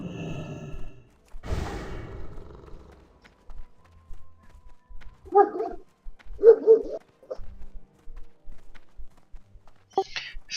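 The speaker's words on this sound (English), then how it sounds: "I hear birds and dogs" Dogs bark in a few short, faint bursts somewhere in the background, spaced apart against an otherwise quiet setting.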